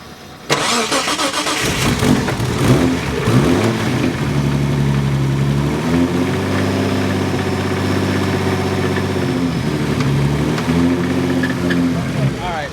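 A Nissan 240SX S14 with an RB26/30 engine idles steadily on a dyno, with a knocking, rattling piston-slap clatter under its drone, close up, and people talk over it at times.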